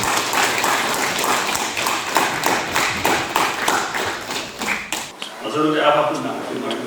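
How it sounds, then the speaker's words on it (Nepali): An audience applauds a team at a savings and credit cooperative's annual general meeting in a hall, a steady run of rhythmic hand claps before a speaker begins talking over a microphone. "यो टिमैलाई ताली बजाइदिनुको लागि"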